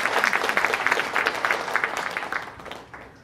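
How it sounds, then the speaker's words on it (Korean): An audience at a concert at a North Korean defectors' cultural event breaks into strong clapping that holds steady, then thins and fades away toward the end. "힘내시라고 다시 한번 큰 박수 부탁드리겠습니다."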